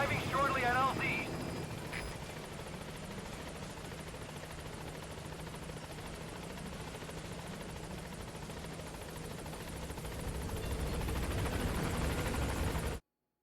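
A steady helicopter rotor drone from the Pequod chopper arrives at a landing zone in Metal Gear Solid V: The Phantom Pain, loud and continuous throughout, with radio-style speech briefly over the start.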